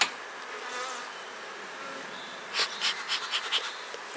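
Honey bees buzzing at an open hive during a beekeeping inspection, a steady close drone with a burst of louder, pulsing buzzes near the end.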